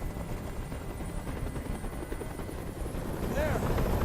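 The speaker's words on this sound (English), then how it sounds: "Tell that helicopter to get out of here." A helicopter in the video game Detroit: Become Human thrums steadily and loudly over a rooftop standoff, its rotor drone swelling slightly toward the end.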